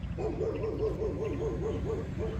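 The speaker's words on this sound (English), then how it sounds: "my neighbor has loud dogs" A neighbor's loud dogs bark and yip in a steady rhythmic run of about ten evenly spaced calls, moderately distant and alone without talk.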